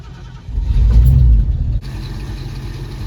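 A 1973 Ford Mustang Fastback engine, running after 30 years left rotting in a yard with a bad carburetor, gives a loud low rumble that swells into a rev, then drops to a steadier idle.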